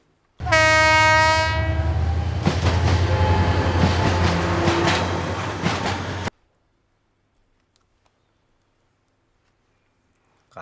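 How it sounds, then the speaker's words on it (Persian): A loud train horn blares, then rumbling and clattering wheels roll past up close for several seconds before cutting off abruptly into near silence. "صدا قطار می آمد."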